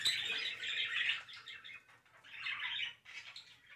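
Birds chirp and twitter outside a window, a few short bursts of high, busy calls at moderate distance with brief pauses between them.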